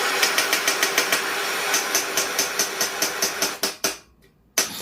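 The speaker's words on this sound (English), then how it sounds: "use my peen and my peen hammer and peen the end of that rod to bend it over around the sides of the barrel" A peen hammer strikes the end of a heated guitar truss rod in a fast, steady run of sharp metallic taps close by, speeding into a few final blows before a brief pause and one more hit.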